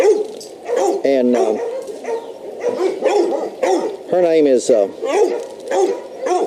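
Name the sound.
dogs barking in kennel yard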